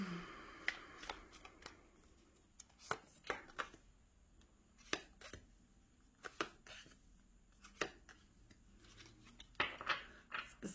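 A small deck of tarot cards being shuffled, with a series of crisp riffling bursts and soft slaps arriving at irregular intervals, close and fairly quiet, with no voices.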